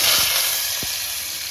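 Mustard seeds dropped into hot oil for a mango chutney give a loud, close, fizzing sizzle that fades gently, with a couple of soft low bumps from the pan early on and no talking.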